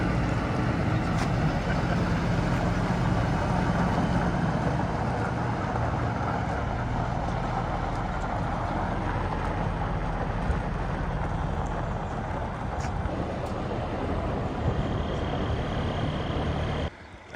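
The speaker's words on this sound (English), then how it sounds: "That's our local delivery truck there." A local delivery truck idles nearby, giving off a steady, even low rumble with broadband engine noise that holds unchanged for the whole stretch, with no talking over it.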